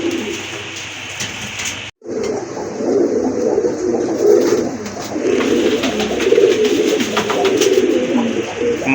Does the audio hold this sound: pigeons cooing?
yes